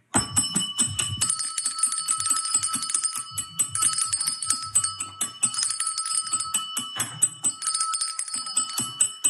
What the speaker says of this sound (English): In our house, we have a bell that you can ring